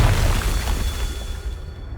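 Confringo fire spell blast in Hogwarts Legacy, a loud booming burst up front that rumbles and fades over about two seconds, no speech.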